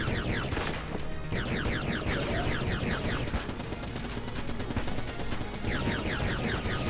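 Rapid, continuous gunfire from Enter the Gungeon, a dense stream of fast shots with chirpy, sweeping projectile sounds layered over a busy, unbroken game mix.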